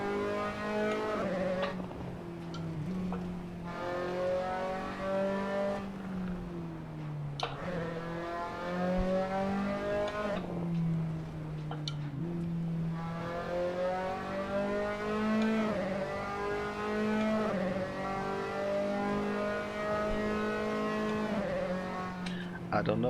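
A race car engine in the Assetto Corsa driving game revs and drops in long repeated sweeps as the car shifts gears. The engine drones steadily throughout at moderate level, with a few brief clicks.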